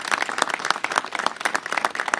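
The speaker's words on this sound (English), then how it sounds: "please give her a round of applause" An audience breaks into loud, dense applause at a city government event opening a neighborhood safety office, with the clapping continuing steadily and close.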